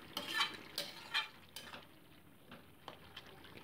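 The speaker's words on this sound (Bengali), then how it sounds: "একটু খুন্তির সাহায্যে একটু স্ম্যাশ করে দিচ্ছি আর কি।" A spatula presses and scrapes through boiled bottle gourd and potato in a pan for a Bengali lau shukto, giving a few soft, close taps and scrapes spaced apart, with no talking.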